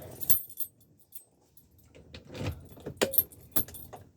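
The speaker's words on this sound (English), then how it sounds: "Now I can put the keys in the ignition." Keys jangle and click as they go into the ignition of a 1970s police car, a few sharp metallic rattles close by in an otherwise quiet cabin.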